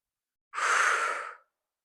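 A single close, breathy exhale during a reformer Pilates exercise, lasting about a second and standing alone against silence.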